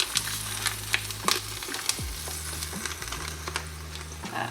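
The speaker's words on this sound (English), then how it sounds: "So now we're going to throw in our 2 packages of Impossible meat." Two packages of Impossible plant-based ground meat frying in a pot for spicy one-pot vegan chili, a close, moderate sizzle with occasional sharp clanks and scrapes, over a steady low hum.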